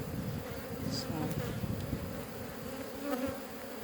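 A steady buzz of bees foraging on buttercups, droning close by, continuous humming with slight rises and falls, faint and outdoors.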